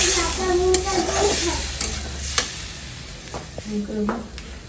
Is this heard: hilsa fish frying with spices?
yes